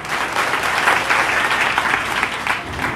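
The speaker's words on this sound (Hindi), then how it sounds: "इनके लिए जोरदार तालियां।" A crowd at a local gathering gives hearty applause for a donor, a continuous, dense burst of clapping from many hands, fairly close and loud throughout.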